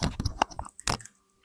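Raw garlic being bitten and chewed up close, a few crunchy bursts in the first second before the mouth goes quiet.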